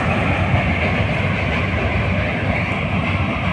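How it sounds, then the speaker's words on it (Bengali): A train runs along the Padma river beside the Lalon Shah bridge, a steady loud rumble and roar with faint rhythmic rail clatter, sustained and fairly near with no speech. "প্রমত্তা পদ্মা নদীর ট্রেন চলে যাচ্ছে"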